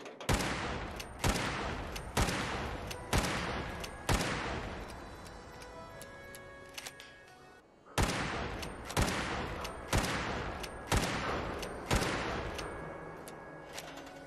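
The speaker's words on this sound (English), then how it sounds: "take the lever action rifle and make it sound a bit more powerful" Lever action rifle shots from Fallout 4 with a more powerful modded sound, a series of sharp loud reports spaced about a second apart, each followed by a short ringing decay, with a brief pause midway.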